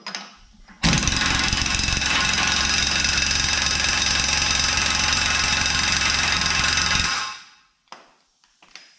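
An Earthquake impact wrench snugs down a fastener on a backhoe's hydraulic cylinder, a loud, close, rapid hammering burst lasting about six seconds before cutting off, followed by a few faint clicks and clanks.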